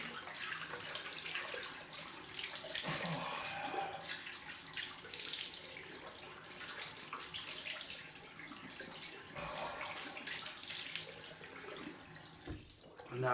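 Tap water runs steadily into a sink for a cold face rinse after a straight-razor shave, a close, even splashing stream with slight surges that continues throughout.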